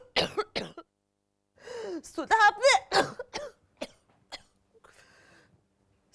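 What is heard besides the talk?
coughing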